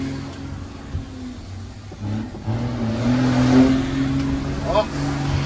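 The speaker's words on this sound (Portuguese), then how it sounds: "você quer te arrancar o acelerador do carro?" A car engine drones steadily and then climbs in pitch as the accelerator is floored, holding a strained rev with background voices and road noise.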